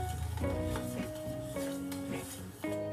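Spoon stirring a marinade of crushed garlic, sugar and salt in a bowl: steady close scraping and rubbing with faint metallic ringing tones, continuous and fairly quiet, no talking.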